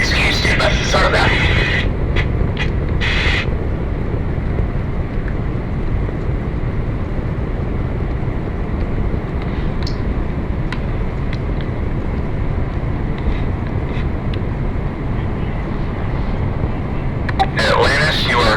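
Space Shuttle Atlantis on the STS-135 launch, its main engines giving a steady, loud, continuous roar that fills the whole stretch, with brief bursts of radio chatter over the top near the start and end.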